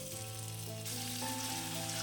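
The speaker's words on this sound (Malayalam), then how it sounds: "ഇനി ചിക്കൻ ഒന്ന് വറുത്തെടുക്കണം." Chicken pieces dropped into hot oil for thari biriyani set off a steady, close sizzle that swells into a fuller crackling fry partway through.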